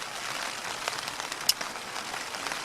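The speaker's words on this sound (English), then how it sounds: "the kind of heavy wind started, and it started raining" Heavy rain drums steadily on a tent during wild camping in Scotland, with wind picking up, a close, dense hiss of drops with occasional sharper taps on the fabric.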